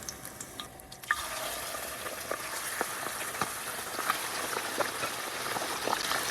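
Chicken pieces drop into hot oil for a chicken rezala curry and fry with a soft, steady sizzle scattered with small crackles and pops, rising about a second in and continuing quietly with no talk.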